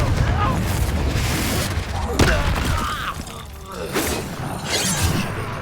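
Confringo fire spell blast in Hogwarts Legacy, heard as loud crackling bursts and booming impacts layered over busy game sound effects, with several sharp explosive hits across the few seconds.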